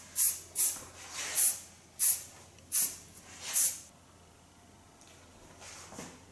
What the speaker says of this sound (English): I use a little bit hairspray